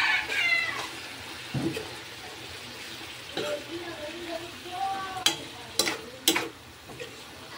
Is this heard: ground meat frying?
yes